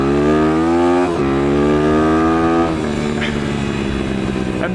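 A dirt bike engine revs loud and close in first gear, the pitch climbing, dipping briefly, then rising again as the clutch releases and the bike launches down a driveway.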